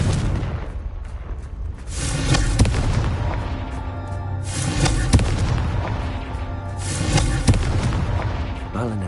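Confringo explosive spells in the video game Hogwarts Legacy go off as loud booming blasts in three surges, each followed by rumbling, crackling debris over a dense low roar.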